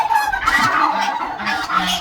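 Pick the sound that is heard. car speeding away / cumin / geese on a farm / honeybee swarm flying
geese on a farm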